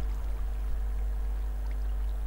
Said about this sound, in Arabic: هلا بنحط المي هون.